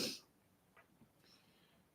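A single short cough burst right at the start, fairly faint, followed by quiet room tone with a few small breathy noises.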